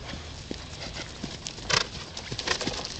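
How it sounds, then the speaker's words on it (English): Horses gallop past at a cross-country event, a quick series of close, sharp hoof thuds that build to a louder burst midway, with faint birds in the background. "All I'm getting is like horses running by."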